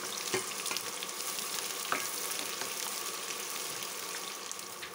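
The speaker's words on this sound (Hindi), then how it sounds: "अब हम इसमें जो पतली स्लाइस में कटी हुई प्याज थी उसे डालकर भूनेंगे" Thinly sliced onions frying in hot oil after cashews for a dhaba-style soya chaap, a dense continuous sizzle with a couple of faint knocks, steady and moderately quiet, with no voices.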